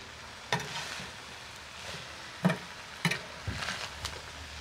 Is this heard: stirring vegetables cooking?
yes